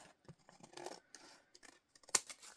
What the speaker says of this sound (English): So I'm thinking I want to cut this off here. So let's cut this off.